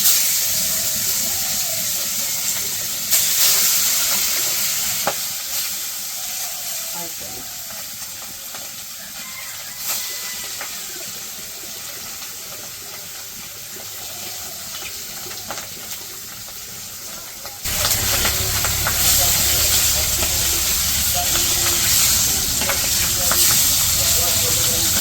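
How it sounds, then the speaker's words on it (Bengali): Fish fried in hot oil in a wok in a village kitchen, a steady broadband hiss and crackle of sizzling that fades somewhat mid-clip before jumping louder again for the last several seconds. "তো তেল গরম হয়ে গেছে, মাছ তো আগে মাখে রাখছি, এখন ভাজা নেই মাছগুলো"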